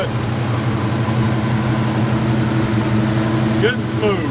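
A classic muscle car engine, a Cleveland V8 at a car show, idles smoothly and steadily close by with a low rumbling hum, while a person speaks over it.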